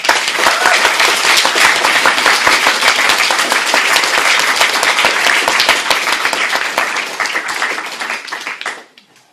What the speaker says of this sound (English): Please, a loud applause and thank you for them.